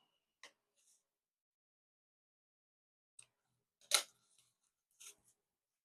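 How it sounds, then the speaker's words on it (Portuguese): Scissors snip loose thread ends during sewing of a baby's toiletry bag, a few sparse, crisp clicks spaced apart in an otherwise quiet room, close and fairly faint. "Cortando as pontinhas de linha"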